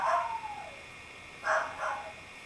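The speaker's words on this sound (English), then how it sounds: "Hear the dogs cry." Dogs give a few high, yelping barks or cries: one drawn-out call at the start, then two short bursts about a second later, moderately near with no talk over them.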